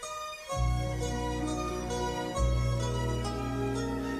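A melancholic song is replayed in a major scale on a sustained keyboard-like instrument, with steady held bass chords and a melody line above, moderately quiet and alone, with a short shift midway.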